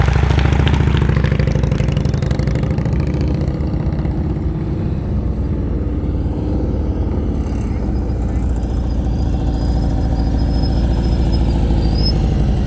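A motorcycle rolls at low speed through slow-riding practice drills in Ohio, its engine a steady low idle-like rumble that carries under loud talk the whole time.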